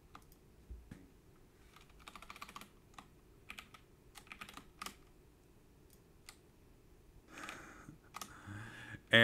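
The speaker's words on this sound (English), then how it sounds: "Click on the white edge." Computer mouse clicking while working in Tinkercad: sparse, sharp, close clicks at an uneven pace, with a busier cluster of clicks near the end and no talking.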